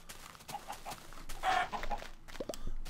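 A chicken in the Minecraft video game clucks in short, repeated bursts, a few soft clucks building to a louder squawk near the middle, fairly quiet overall.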